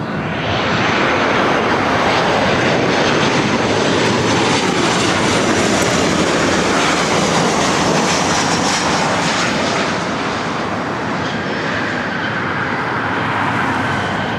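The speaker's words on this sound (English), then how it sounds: "This is Alaska Airlines 1048 coming in from Seattle on a 737-900ER." An Alaska Airlines Boeing 737-900ER jet arriving from Seattle at LAX gives a loud, steady engine roar that carries alone through the whole stretch, with a high whine over it and no talk.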